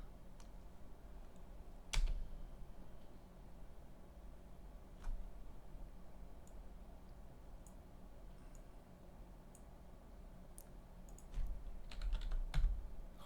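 Someone types a Google search on a computer keyboard in a quiet room, producing scattered soft key clicks with a few louder taps and brief flurries, near and faint, without speech.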